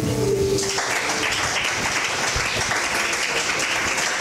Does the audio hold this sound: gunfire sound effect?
no